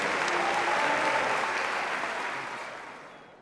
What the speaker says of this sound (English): One more round of applause for our wonderful students.